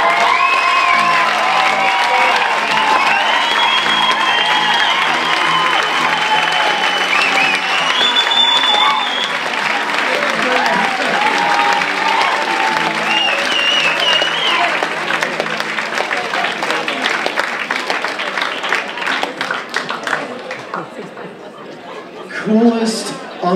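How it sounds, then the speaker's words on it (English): Audience at a Moth storytelling grand slam in a comedy club breaks into loud sustained applause with cheers and some laughter, a dense roar of clapping that thins out toward the end. "Another round of applause for that."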